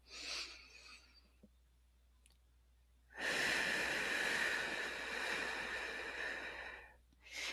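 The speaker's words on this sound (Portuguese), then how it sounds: "Então, inspira 3, expira 3." A slow guided breathing exercise, counting three seconds in and three out: a soft short inhale, then a long, loud, airy exhale close to the microphone, with no talking.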